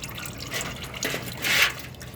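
Engine oil draining from a Fiat 500X during an oil change, a faint steady trickle and drip of liquid with a brief louder splash near the end, close by and without talk.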